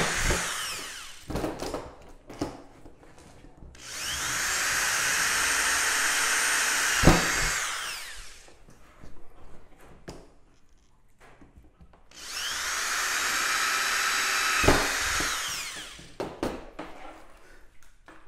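A power drill with a 5/16-inch bit, enlarging pilot holes, whines loudly in two long bursts with a quiet pause between them, its pitch steady and high.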